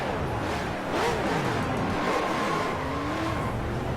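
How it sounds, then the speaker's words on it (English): Race car engines fire up on the starting grid of a short-track feature race, a dense roar of several motors with revving pitch sweeps, loud and close, with no talk over it. "the command to fire engines has been given"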